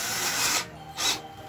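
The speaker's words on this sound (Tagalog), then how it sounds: "So higpitan na lang po natin." A screw is tightened with a screwdriver during a rice cooker repair: two short scraping, rasping turns, close and moderately quiet, with no talk.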